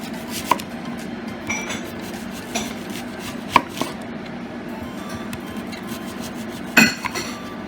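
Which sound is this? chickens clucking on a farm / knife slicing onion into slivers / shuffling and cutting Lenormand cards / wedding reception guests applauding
knife slicing onion into slivers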